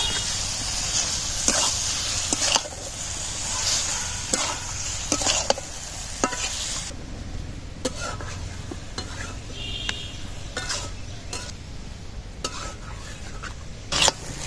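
Fish is stirred into a cooked-down spice masala in a pan, with scraping and clinking stirring strokes over a soft, steady frying sizzle.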